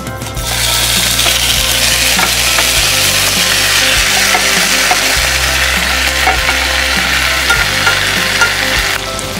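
Prawns drop into moderately hot oil and burst into a loud, close sizzle after a brief quieter start, with occasional scraping and stirring sounds as they fry, and no talking.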